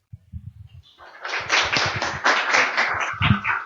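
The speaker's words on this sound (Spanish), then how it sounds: "Por favor, una ronda más de aplausos a los doctores." An audience at a conference on extrajudicial conciliation breaks into applause after a few scattered early claps, then a sustained, lively round of clapping that carries to the end.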